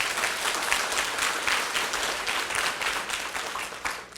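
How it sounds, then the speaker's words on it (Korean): An audience at a company founding and introduction talk bursts into steady applause, a dense wash of many hands clapping close and loud for about four seconds, with no speech over it. "저분을 위해서 박수 한번 쳐주세요"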